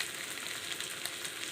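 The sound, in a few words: onions frying in oil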